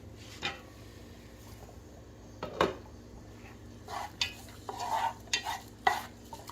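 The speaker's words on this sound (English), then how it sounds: "We want it to saute for a few minutes until it looks a little translucent." Potatoes saute in a pan with sweet potato and chickpea chili ingredients, a low, quiet sizzle broken by scattered spoon stirs and clinks against the pan, irregular and close.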